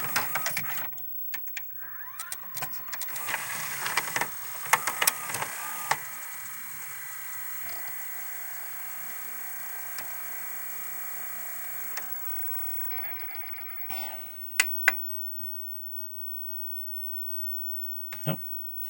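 Emerson VCR/DVR combo with its tape head spinning up: a steady high mechanical whine and hum that holds for several seconds, framed by clicks and clunks of the transport mechanism, then sharp clicks as it stops.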